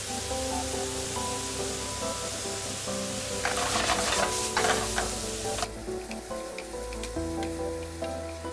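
Ground beef seasoned with salt, black pepper and cumin frying in a pan, a loud continuous sizzle with bursts of stirring and scraping in the middle, close up.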